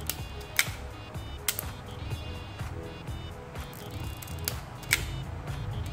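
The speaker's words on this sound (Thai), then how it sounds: "มันจะมีเสียงแก๊กๆหน่อยนะครับเวลากดชัตเตอร์ไป" Sharp mechanical shutter clicks from a Rollei 35 S film camera ring out a few times at uneven intervals over low background noise, close and crisp.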